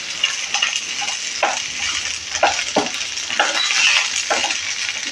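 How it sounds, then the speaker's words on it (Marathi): Green peas sauté in a pan with chilies and ginger, giving a bright, steady sizzle broken by scraping stirs every second or so, close and clear with no talking. "आणि आता हे मटार आपण चांगले परतून थोडा त्याचा कलर बदलेपर्यंत"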